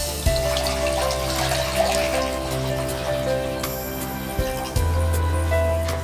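Measured water poured into a cooking pot for prawn biryani, a steady splashing pour close by, with brief interruptions and clunks as the stream shifts, heard alone without talk.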